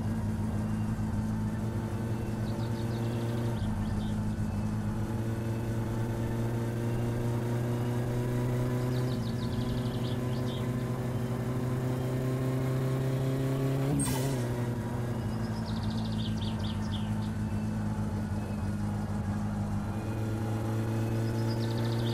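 Engine of a squared-body Volkswagen Gol with a turbo AP 1.6 in My Summer Car, running steadily and loud throughout with strong low harmonics, shifting pitch slightly in stages, with a brief sharp burst near the middle.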